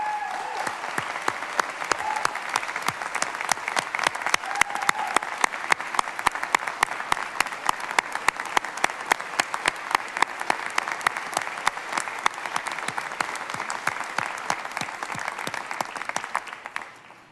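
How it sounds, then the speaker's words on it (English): Lawmakers and guests in the Texas House chamber applaud the new Speaker's family and supporters, a long, dense, even round of many hands clapping that holds steady before tapering off at the end. "Members, let's give them a round of applause."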